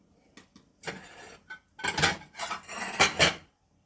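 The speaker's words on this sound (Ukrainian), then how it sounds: "ще раз перемішую і буду закладати в банку" Clinks and scrapes of a spoon against a glass jar as zucchini spread is spooned in, in short bursts, close up, with brief quiet gaps between scoops.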